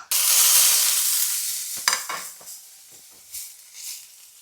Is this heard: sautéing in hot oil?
yes